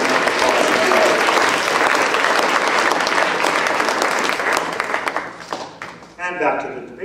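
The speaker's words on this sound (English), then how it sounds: "let's give Julia Grace a round of applause" A school audience gives sustained applause at a student presidential debate, loud and dense at first and then thinning to scattered claps before a voice begins speaking.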